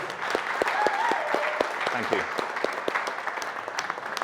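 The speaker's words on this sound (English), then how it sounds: "I want to give you guys a round of applause" An audience applauds at a quarterly kickoff event, with scattered distinct claps under a speaker who talks briefly over them.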